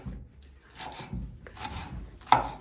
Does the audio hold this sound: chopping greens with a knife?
yes